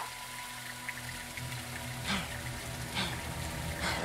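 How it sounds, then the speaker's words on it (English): Heavy rain in Call of Duty Modern Warfare 2 hisses steadily in the background, with a low hum beneath it and a few brief splashy swells. "It's raining fucking hard."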